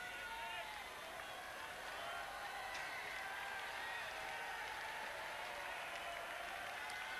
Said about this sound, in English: Crowd getting very involved